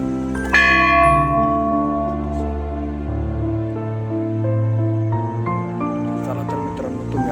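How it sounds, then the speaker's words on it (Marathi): A heavy 100 kg bell at an ancient Shiva temple is struck once, then again, each blow blooming into a long, shimmering hum that fades slowly under faint background murmur. "आता तिथे 100 किलो रोजनी घंटा बसवलेली आहे."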